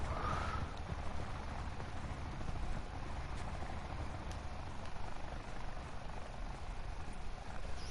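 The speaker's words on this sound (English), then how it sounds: "Freaking helicopter, man." Helicopter in the Black Ops 4 video game, a steady low rotor drone and engine hum running throughout, fairly quiet and continuous with no talking.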